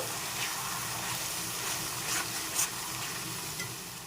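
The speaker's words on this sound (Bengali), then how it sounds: "আর দিয়ে দিচ্ছি আদা রসুনের পেস্ট ভালো করে কষিয়ে নিতে হবে মশলার কাঁচা গন্ধটা চলে যাওয়া পর্যন্ত" Ginger-garlic paste fries in a pan with a steady, soft hiss. Faint spoon scrapes come and go as it is stirred.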